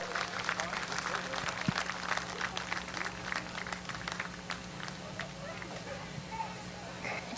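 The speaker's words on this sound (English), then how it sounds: "a big round of applause for the Bittaker family" A speedway crowd at Midvale Speedway gives a round of applause for the Bittaker family, a faint, scattered patter of clapping heard beneath an announcer's voice over a steady low hum.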